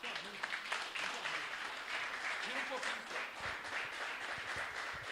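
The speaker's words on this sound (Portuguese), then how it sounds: "Sua melhor salva de palmas ao Senhor." Faint, sustained applause from a church congregation during a sermon, a soft wash of claps with voices mixed in.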